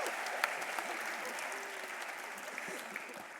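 An audience at the 2016 Telstra NT Charity Awards applauds warmly in a dense, sustained round of clapping that slowly tapers off, with faint voices in the crowd.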